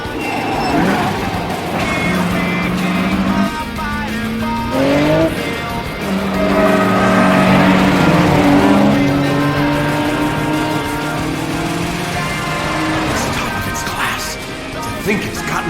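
An 8-6 race car charges through a night street race in an anime, engine revving and tires squealing, with rising and falling engine tones, skids and a crash-like burst, loud and close, mixed with music and effects.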